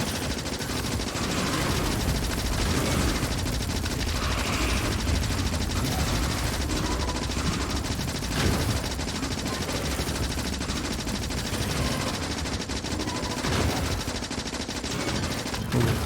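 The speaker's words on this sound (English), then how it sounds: "Let's switch over to the machine gun." A machine gun fires nonstop in the factory-building game Factorio, a dense, steady clatter of shots that lasts the whole stretch with no clear breaks.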